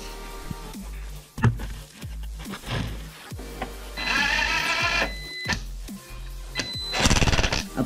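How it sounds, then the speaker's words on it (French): Impact wrench tightening 13 mm nuts on threaded rod while a tiller engine is refitted to its gearbox, delivering short loud rattling bursts between clanks and metallic handling noises. "je prends la clé à choc"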